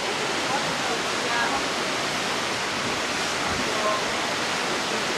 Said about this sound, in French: On va pouvoir entendre le bruit de l'eau pendant la nuit.